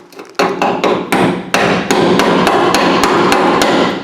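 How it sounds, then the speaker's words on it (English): Hammer blows on a sharp chisel dig rust and lead filler out of a junkyard Cadillac's body pillar, about a dozen loud, close, ringing metallic strikes in an uneven rhythm with no talking. "Yeah, I just use this chisel. It's kind of sharp."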